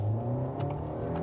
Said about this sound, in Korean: 풀 엑셀로 놓고 시속 50km까지 가속을 했는데